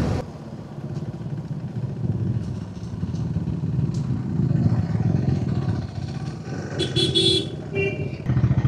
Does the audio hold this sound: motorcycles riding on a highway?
yes